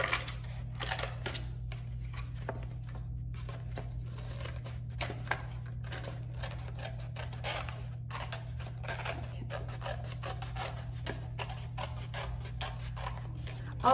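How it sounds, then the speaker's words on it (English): Scissors cutting paper for a Fourth of July craft kit, with a steady run of close, crisp snips and slicing strokes over a low constant hum and no talking. "and then we can continue cutting."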